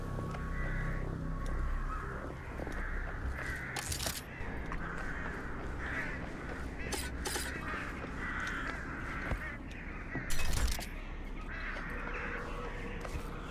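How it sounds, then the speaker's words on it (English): Crows caw repeatedly over a steady background din in the video game Serious Sam: Siberian Mayhem, with brief louder bursts mixed in. "there's a bunch of crows over there"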